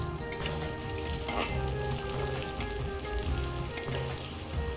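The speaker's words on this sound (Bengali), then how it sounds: "এখন পটল ভাজা হচ্ছে।" Pointed gourd frying in oil for a home Janmashtami puja meal, a steady crackling sizzle with soft bubbling and occasional stirring, continuous and close throughout with no voices.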